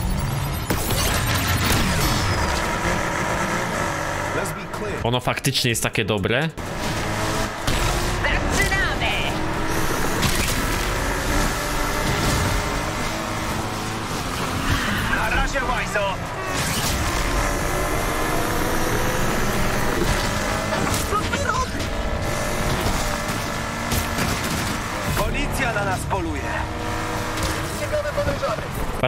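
A modified car with an aftermarket exhaust pipe revs and races in a Need For Speed game, its engine roaring continuously with shifts, tire squeals and skids, while someone talks over it.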